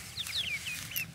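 Six-week-old chickens of Black Sex Link, Calico Princess, Isa Brown and Sapphire breeds give a few faint, high, short cheeps and clucks, scattered irregularly over a quiet background.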